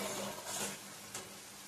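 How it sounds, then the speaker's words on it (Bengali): Cashews, raisins and a ground paste are stirred and fried in a pan for a Bengali rui fish kosha. The sizzle is soft and constant, with a few faint scrapes of the spoon against the pan. "কাজু বাদাম কিশমিশ বাটাটা দিয়ে দিলাম, দিয়ে এটা ভালো করে কষিয়ে দিতে হবে।"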